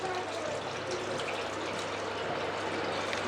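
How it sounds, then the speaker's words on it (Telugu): Tamarind juice gushes steadily into a new steel pressure cooker, a continuous watery pour that lasts the whole few seconds. "అసలు చింతపండు రసం అయితే వేస్తున్నానండి"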